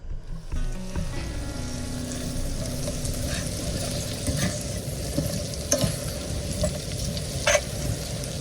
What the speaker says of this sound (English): I'm just going to fry it up like that